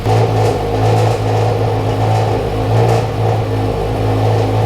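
A car engine fitted with a freshly installed Greddy 518Z turbo kit on an FRS/BRZ/86 idles loudly and close by, with a steady low drone and a slightly uneven, rough pulse.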